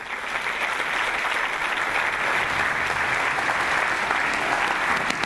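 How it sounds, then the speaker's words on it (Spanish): An audience at the Innovation Day 2018 conference applauds to welcome a speaker to the stage: steady, full clapping from a large crowd, close and continuous, with no talking. "Le damos un fuerte aplauso de bienvenida a Ignacio Peña."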